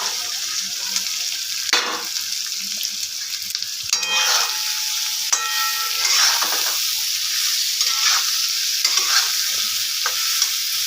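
Soybean chunks stirred and frying in a pan for biryani, a steady oily sizzle broken by repeated scraping strokes of the spoon against the pan.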